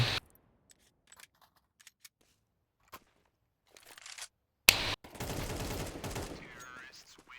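In a shooting video game played on a laptop, faint scattered clicks lead into a sharp burst of gunfire, followed by dense game noise with a voice talking over it.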